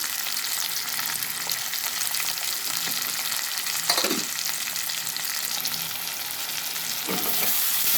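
Sliced onions and green chillies fry in a pan for a cauliflower tomato curry. The sizzling is steady and close, with a couple of brief stirring scrapes and no talking.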